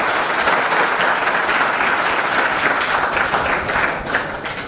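Audience applause at a study centre event in a village, steady sustained clapping from a crowd throughout, loud and close, fading slightly toward the end.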